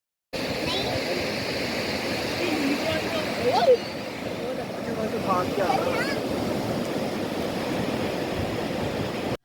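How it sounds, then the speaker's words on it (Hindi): Ocean waves washing against the seashore, a steady wash of surf that holds close and continuous, with a few faint higher cries briefly rising above it. "लहरों की स्पेशली ये जो नेचुरल साउंड होती है ना ये बहुत रिलैक्सिंग होती है"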